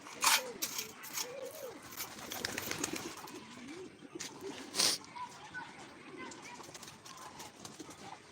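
Racing pigeons coo in low, rolling calls nearby after being let out in the afternoon, with a few sharp flaps and knocks, while someone talks over them.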